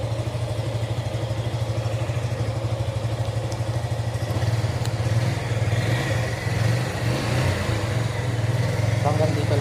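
A 2024 orange Suzuki Gixxer 155 motorcycle runs close by with a steady idle-like engine drone, the revs lifting slightly partway through, while people talk over it.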